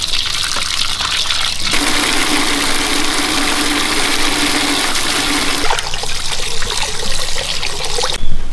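Water gushes steadily from a tap while 7 kg of raw meat is rinsed, a loud continuous splashing rush with slight shifts as the meat is handled.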